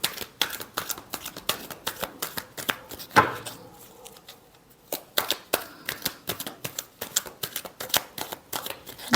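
Tarot cards being shuffled by hand, a steady run of close, crisp riffling snaps and flicks with a brief pause midway before the rhythmic shuffling resumes.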